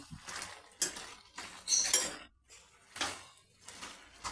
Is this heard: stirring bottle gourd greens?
yes